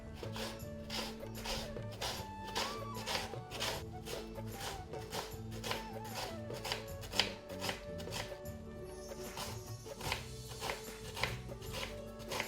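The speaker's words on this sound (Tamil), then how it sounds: "இப்போ நாங்கள் நான் வெங்காயத்தை வெட்ட போகிறோம்" Freshly washed onions are sliced with a knife for crispy kadalai vadai, giving a close, steady run of quick rhythmic chops on a board.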